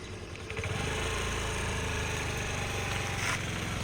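A scooter engine running as a beginner rider practises, a steady close puttering hum that rises slightly after the first half second and stays even.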